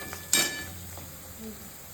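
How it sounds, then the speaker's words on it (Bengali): Onions frying in a pan, a brief close sizzle with a sharp metallic scrape of a spatula early on, then a soft fading crackle. "আর এদিকে পেঁয়াজ ভাজছি"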